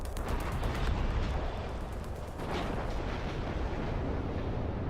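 Explosions rumble in the video game Prey: a continuous dense barrage of deep booms and crackling blasts, like fireworks, rolls on for several seconds at moderate loudness with no speech.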